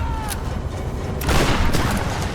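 A grenade blows up in a Tomb Raider firefight, a loud broadband burst near the middle of the clip over continuous rumbling gunfire and battle noise.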